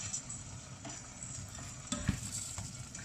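Risotto is stirred in a pan as the last of the white wine is absorbed. A faint, soft sizzle runs under quiet scraping strokes with a few light knocks.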